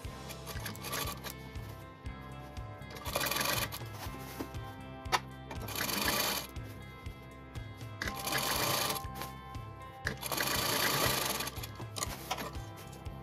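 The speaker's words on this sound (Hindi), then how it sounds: "लैस को गले में जॉइंट करने के बाद अब हम दूसरी साइड भी ये सिंपल स्टिचिंग करेंगे" A sewing machine stitches lace onto the neckline of an angrakha garment, running in several sustained bursts with steady mechanical whirring and brief pauses between runs, close and moderately loud with no talking.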